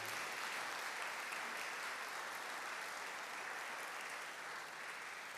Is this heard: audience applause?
yes